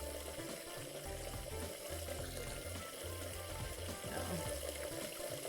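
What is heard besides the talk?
running water from a faucet in the video game Catlateral Damage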